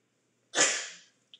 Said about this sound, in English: And now I'm about to sneeze.